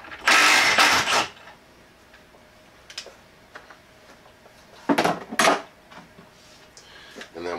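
A Milwaukee M12 3/8-inch stubby impact wrench hammers loose a fastener in two loud, close bursts of rapid clattering, about a second each, separated by a quiet pause.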